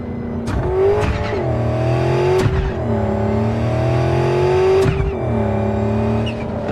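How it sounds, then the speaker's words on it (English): A car engine in the video game Cyberpunk 2077 revs hard through repeated downshifts, each sharp blip followed by a sustained rising whine, loud and close throughout. "its downshifting should not sound like that"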